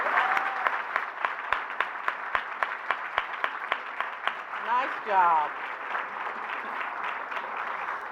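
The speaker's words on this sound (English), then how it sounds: "we need to give him another round of applause and encouragement" A crowd at a memorial breakfast applauds a young man who has just spoken, with steady clapping running throughout and a voice briefly speaking over it near the end.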